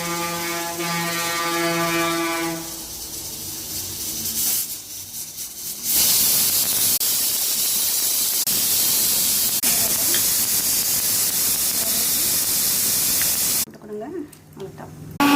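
A kitchen pressure cooker gives a loud whistling tone, then breaks into sustained, forceful hissing steam that fills the rest of the stretch close up.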